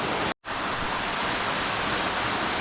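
Loud, steady rush of a waterfall in Istria pouring through a rock window, a dense continuous roar heard up close with no voices, broken only by a brief dropout near the start.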